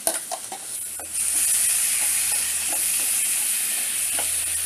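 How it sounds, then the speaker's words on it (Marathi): Leftover masala from stuffed eggs tipped into a hot tempering in a pan, sizzling and frying steadily with a bright hiss that swells after a first second of stirring scrapes, close and continuous. "आता जो राहिलेला मसाला आहे आपला तो आता या फोडणीला देते मी"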